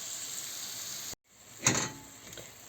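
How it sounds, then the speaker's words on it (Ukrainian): Chopped onion and carrot sizzle steadily in a pan on low heat, a soft constant hiss broken by a brief clatter as a lid is set on, after which the gentle frying continues muffled. "робимо менше вогонь, щоб воно потихеньку собі тут тушилось, піджарювалось"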